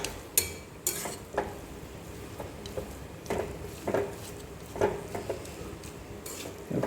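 Leftover rice with tomatoes is stirred in a pan, repeated soft scrapes and taps of the spoon over a faint background sizzle, spaced irregularly about once a second.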